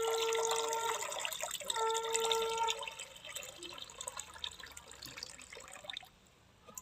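Water from a large, thin-shelled tender green coconut, freshly cracked open, is poured slowly in a thin stream that gurgles and drips close by, then tapers into a few last drops before stopping.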